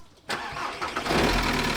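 A car engine cranks and catches, then settles into a steady idle right outside a garage, close and fairly loud with no talking.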